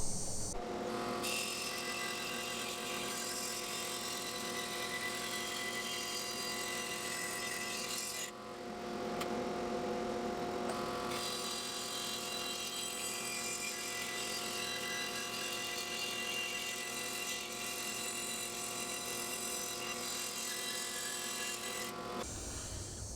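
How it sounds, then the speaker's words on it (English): Bandsaw slicing a wooden form for a bentwood-handled charcuterie board, a loud steady mechanical whine with dense harmonic hum running nonstop, briefly easing near the middle before resuming at full strength. "We're going to go cut that at the bandsaw."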